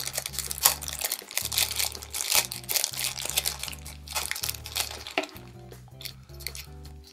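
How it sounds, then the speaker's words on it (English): Crinkling plastic bag handled up close as a Pulsar 8832T remote transmitter for a gate and garage door opener is pulled out, with continuous rustling and crackling over a steady background tone. "it's going to come in a nice little plastic bag like this. Take out of the bag and show it to you."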